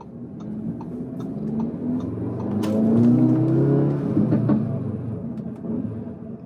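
Engine and exhaust of an Audi S3 8Y, 213 kW and 400 Nm, revving and pulling hard as it accelerates, heard from inside or close by. The loud, rising drone swells toward the middle of the run and then eases off.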